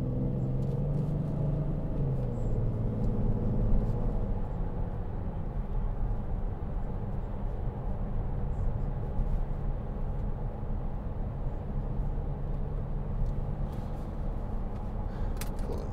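Audi Q7 6.0 TDI V12 diesel with Tiptronic and quattro accelerating, a steady low engine drone and rumble heard from inside the cabin, continuous and moderately loud with no talking.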